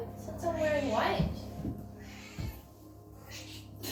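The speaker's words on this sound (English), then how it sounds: "Here comes the cat through the window." Ruby, a 9-year-old cat, meows near a window with a drawn-out rising cry followed by a couple of shorter meows. A person talks over and around the sounds.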